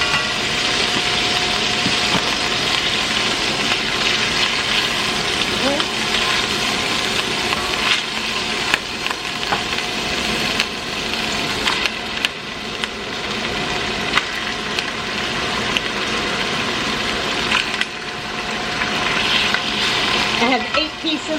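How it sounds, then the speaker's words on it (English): Cube steak sears in a hot pan in a busy homestead kitchen, giving a loud, continuous sizzle with scattered scrapes and clatter as the meat is flipped. "I'm going to just flip this meat. I'm not trying to cook it. I'm just trying to brown it a little bit."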